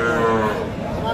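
A Sahiwal-breed bull calf moos at the crowded Ambari cattle market in Dinajpur, a single loud, close, drawn-out low call filling the short moment.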